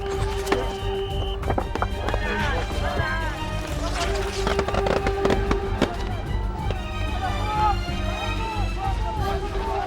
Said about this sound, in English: The tear gas canisters have just come in, and everyone's beating a hasty retreat.